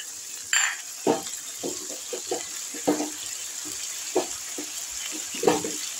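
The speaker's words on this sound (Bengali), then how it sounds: "নাড়াচাড়া দিয়ে সামান্য একটু জল দেব।" A little water goes into a pan of eggs cooked with garlic, bringing repeated bursts of sputtering hiss and stirring scrapes over a constant background sizzle, with no talk.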